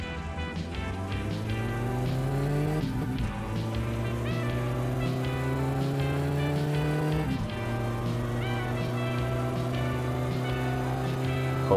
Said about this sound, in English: Hold it in third. The engine's gonna scream,